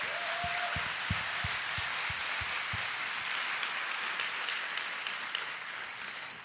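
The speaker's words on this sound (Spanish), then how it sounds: "Dale ese aplauso al Señor." A church congregation applauds during a Spanish-language sermon, a steady wash of clapping with a few regular low thumps early on, tapering slightly at the end.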